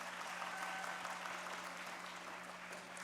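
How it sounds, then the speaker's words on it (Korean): Wedding guests clap together in a hall, a brief, fairly quiet stretch of scattered applause with a faint steady hum beneath it. "박수 부탁드립니다."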